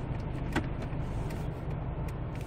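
A ten-year-old Kia Grand Carnival idles in neutral while parked, giving a steady low engine rumble and cabin vibration heard from inside, with one brief click early on.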